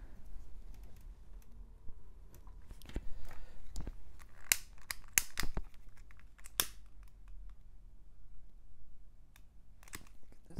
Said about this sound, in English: So let's just cut it. Let's cut this right there.